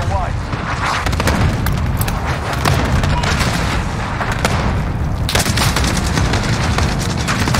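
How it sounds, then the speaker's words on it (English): A cruise missile strike in Call of Duty Modern Warfare lands as a dense barrage of loud booms and gunfire-like blasts, continuous and close, with a fresh burst of explosions near the end. "Allied cruise missile away."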